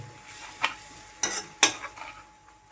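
Onion frying in oil in a pan for a mixed vegetable dish, with a soft sizzle beneath several sharp scraping and stirring clacks from a spoon against the pan, spaced irregularly.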